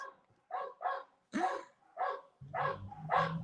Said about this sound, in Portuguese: o meu cachorro agora começou a latir insistentemente